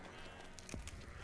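Goats grazing in the Egyptian desert let out a single brief bleat, faint and somewhat distant, over a quiet background.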